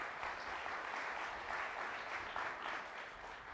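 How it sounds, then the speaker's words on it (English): Conference audience applauding in a hall, a steady wash of many hands clapping at moderate distance, fairly soft and sustained for several seconds. "Let's give them a big round of applause"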